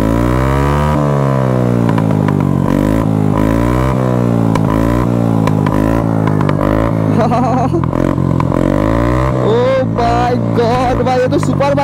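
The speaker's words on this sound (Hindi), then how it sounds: "बैक फायर सुनो भाई, बैक फायर।" A loud Yamaha Fascino scooter with a modified exhaust and its DB killer removed revs up and down repeatedly, with sharp popping backfire crackles near the end.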